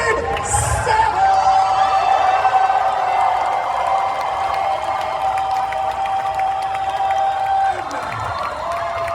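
A large audience at a Scream 7 convention panel in Tampa cheers, whoops and applauds loudly and continuously, with a steady high tone running underneath.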